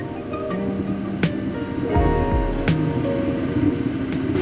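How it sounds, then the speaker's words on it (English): A diesel heater fires up and keeps running, giving a steady low roaring rumble with a brief louder surge and a few clicks, heard close. "oh, I think I can hear it firing."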